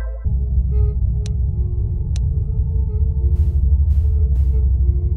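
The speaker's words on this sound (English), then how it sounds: "Who the hell is humming?" Eerie, steady low humming drone inside a horror video game, a continuous throbbing rumble with a few faint clicks and brief hissy bursts over it, no talking.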